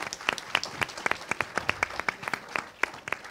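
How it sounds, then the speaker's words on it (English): An audience at a Lifebuoy brand campaign launch with Kajol claps to welcome about a hundred expectant mothers, sharp individual claps ringing out in a loose, uneven rhythm rather than a dense roar. "उनको वेलकम करना चाहूँगा with a huge round of applause"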